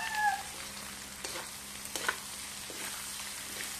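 Two eggs mixed with plenty of other ingredients sizzle quietly in a pan, a low steady crackle with a few soft scrapes as they are stirred, and a brief high cat-like squeal near the start.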